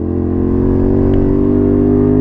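A Honda Varadero 125 motorcycle at full throttle in second gear gives a loud, steady engine drone that holds constant and close-up, with the pitch barely rising across the stretch.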